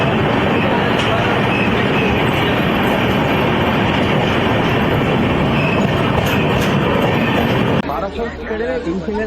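A passenger train on the Kolkata to Vizag run rumbles steadily along the rails, a loud, continuous roar with faint clatter that drops off sharply near the end.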